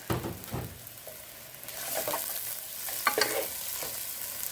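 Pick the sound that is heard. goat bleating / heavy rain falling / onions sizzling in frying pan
onions sizzling in frying pan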